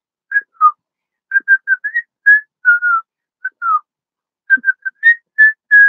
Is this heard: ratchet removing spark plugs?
no